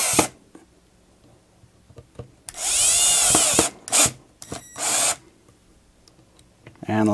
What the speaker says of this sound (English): I'm not exactly sure, you know, how hard I should go with the drill